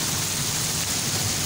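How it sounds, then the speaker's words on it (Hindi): Heavy rain falling at night outside a house, a steady dense hiss of downpour that stays loud and unbroken throughout, with no voices. "हमने सोचा क्यों ना बाहर आके हम लोग ज़रा बारिश इंजॉय कर लें।"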